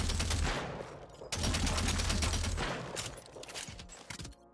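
Rapid, dense gunfire from dual-wielded guns in the VR shooter After the Fall, loud and continuous in two long bursts with a brief gap between them, then thinning toward the end.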